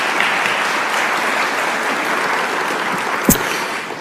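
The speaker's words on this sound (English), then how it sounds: "Let's give her a round of applause." An audience claps at a technology event, a loud, dense and even wash of applause with a single sharp knock near the end.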